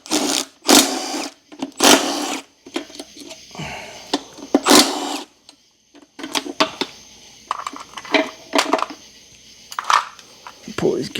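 Power tool rattling in short whirring bursts as 10 mm bolts come out of a Honda Element FWD manual transmission case, close and fairly loud with pauses between, with some speech in the background.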